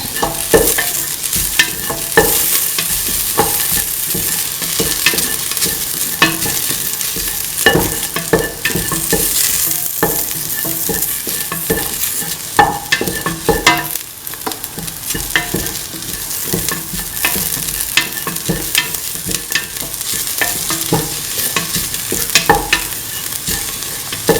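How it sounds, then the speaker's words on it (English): Onions, garlic and ginger stirred with salt in a hot pan while cooking a bread egg dinner recipe: steady close sizzling with repeated scraping utensil strokes throughout, no talking. "Mix the onions, garlic and the ginger. Put in salt to taste. Mix thoroughly."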